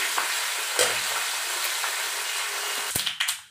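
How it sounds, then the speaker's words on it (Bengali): Black cumin seeds sizzling and popping in hot oil in a pan, a steady frying hiss with a few sharp pops toward the end, no talking. "কালো জিরেটা কী হয়েছে কি জানি, তেলে দিলে ছাট ছাট ফুটে ফুটে গায়ে চলে আসে"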